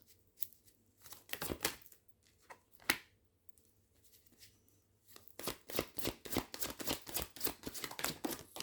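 Tarot cards are shuffled by hand in several bursts of soft riffling and tapping, brief and irregular early on, then a longer rhythmic run of quick flicks at close range.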